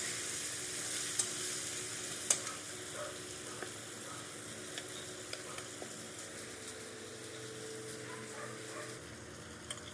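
Diced potatoes sizzling and frying with spices in a pan while they are sautéed, a steady crackling hiss throughout with a few sharp clinks of stirring, close and fairly quiet, no voices.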